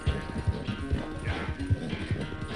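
A horse gallops in Red Dead Redemption 2, its hooves thudding in a quick, regular clip-clop rhythm close by, with a person talking over the hoofbeats.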